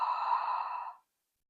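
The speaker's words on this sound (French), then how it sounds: "Imaginez que vous voulez faire de la buée sur un miroir." A single breathy exhale of Ujjayi yoga breathing, like fogging a mirror, rushes out steadily for about a second and then stops.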